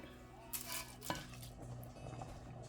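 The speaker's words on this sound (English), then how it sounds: "Now let me go ahead and stir that around just a little bit." A spoon stirs spaghetti noodles, ground beef and water in a cooking pot, soft scraping and clinking against the metal with a couple of sharper knocks, fairly quiet and close.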